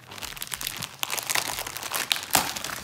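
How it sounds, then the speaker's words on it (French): Crinkly plastic foil of a Panini 2020 Fantasy Riders trading card booster pack being torn open and crumpled, with close, dense crackling bursts, a sharp rip near the end, and no talking. "on va se déballer le pack."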